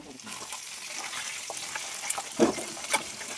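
Small fish fry for jhuri in a pan with a soft, steady sizzle and faint spatter, plus a few louder clinks and stirring knocks.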